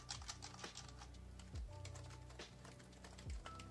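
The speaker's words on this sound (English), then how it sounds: "this keyboard sounds a lot more quiet than the Dell keyboard I was working on" Quiet typing on a Lenovo ThinkPlus Preferred Pro keyboard, soft rapid keystrokes clattering steadily and close, with a few heavier thumps, in an office-style setting with no talk.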